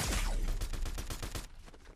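Gunfire in the Fortnite video game during a sniper encounter: a dense, loud burst of rapid shots lasting about a second and a half, then breaking off.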